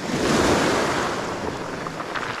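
Ocean surf as a set of waves breaks over clear water, a steady loud rushing wash with some wind noise on the microphone, with no voices.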